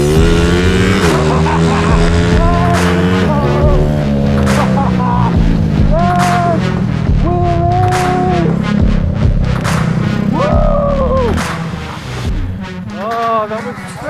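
A homemade go-kart engine revs hard while accelerating, loud and close, its buzzing pitch climbing and dipping in repeated surges, with excited voices over it.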